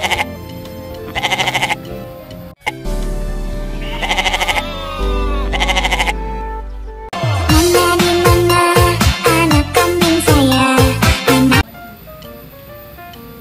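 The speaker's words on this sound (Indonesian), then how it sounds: "ini binatang kambing, teman-teman" Repeated goat bleats come in short bursts over a steady musical background, fairly loud and close, with one noisy stretch toward the end.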